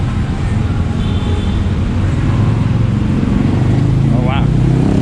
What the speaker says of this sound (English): Traffic is busy here today.